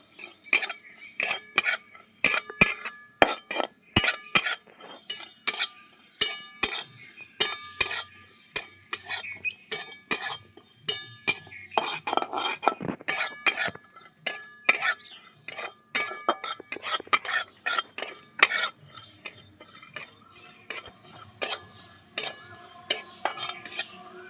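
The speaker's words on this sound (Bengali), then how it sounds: "হালকা করে আমি জিরেগুলো ভেজে নেবো" A spatula scrapes and clinks against a pan again and again as cumin seeds are dry-roasted, in irregular bursts with quiet gaps.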